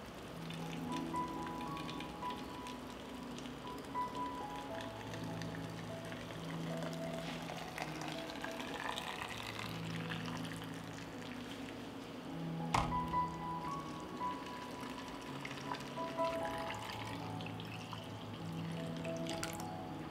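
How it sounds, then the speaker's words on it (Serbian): Boiling water poured into filled jars, a faint, continuous trickling and splashing that goes on for about twenty seconds, with a brief knock partway through and no voices. "I proključalu vodu sipam u tegle."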